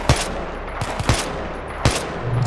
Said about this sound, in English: M16, and I'm using single burst?